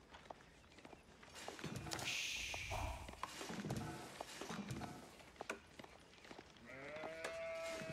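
Sheep bleat in Age of Empires IV amid game ambience, with soft footstep-like thuds and scattered clicks; a clear bleat rises near the end over steady background sound.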